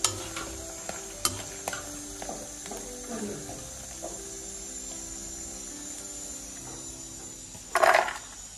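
Silkworms dry frying in a pan, stirred with sharp scraping clicks and a louder rattling stir near the end over a low background hiss.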